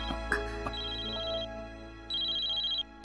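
Mobile phone ringing indoors during a quiet conversation scene, a steady high electronic ring tone sounding in two sustained bursts with a short gap between them, clear and moderately loud.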